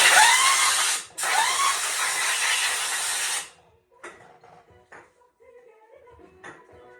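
Compressed air blasts loudly into a 2-stroke cylinder to clear out metal chips, two long hissing bursts split by a brief pause, followed by quieter clinks and handling noises.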